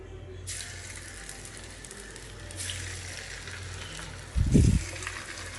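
Rice flour nachos fry in a pan of hot oil, giving a steady soft sizzle at close range with a brief louder splash or clatter near the end.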